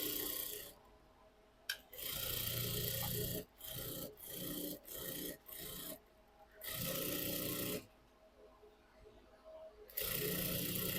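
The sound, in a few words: sewing machine stitching all sides of a blouse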